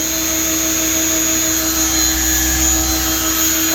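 An engine running steadily at about 1820 RPM, a loud constant drone with a fixed whining tone and no change in pitch throughout.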